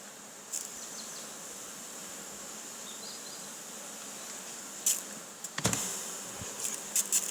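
Honey bees buzz steadily at close range while being shaken from hive frames into a box, with a few sharp knocks and thumps near the end.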